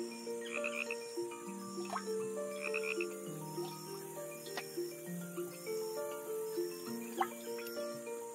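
Toads croak repeatedly in the Equilinox video game, short rhythmic calls layered over a bright tonal game music bed, moderately quiet and steady throughout with no talking.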